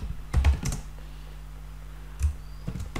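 Computer keyboard keys tapped in a few short clusters, a couple of quick key combinations for copy and paste, with a pause between bursts over a steady low hum.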